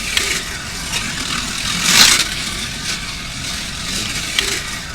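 A Slot.it BRE Datsun 510 slot car runs laps on a track. Its electric motor gives a thin whine that swells as the car passes close around the two-second mark, then fades back to a soft buzz.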